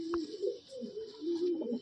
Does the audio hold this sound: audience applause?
no